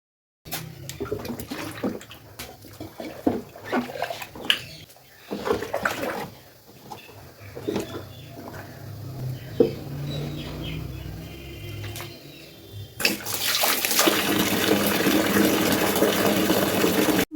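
A tub being filled with water from a tap for washing flower pots, with scattered knocks and splashes at first, then a loud steady gush of running water from about halfway through to the end.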